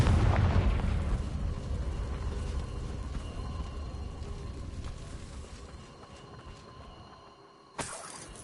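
Confringo fire spell explosion in Hogwarts Legacy on PS5, a heavy booming blast that opens loud and rolls into a long rumbling decay, then a brief sharp burst of noise near the end.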